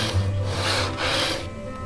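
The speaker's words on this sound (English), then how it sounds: "way to sand the edge of this fretboard." A sanding block with 320-grit paper rubs along the edge of the fretboard on a 1978 Martin HD-28 during a neck reset and refret, making a steady close scraping rasp in two long strokes.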